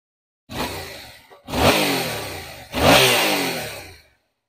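A 2019 Yamaha MT-07 Tracer motorcycle engine is revved three times in quick succession, each rev rising sharply and falling away, loud and close, with no talking.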